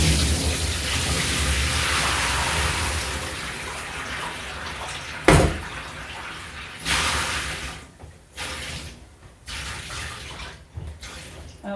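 Dye water poured out of a dye pot in a steady splashing gush that runs for several seconds, then breaks into a few shorter spurts and trickles with brief gaps between them.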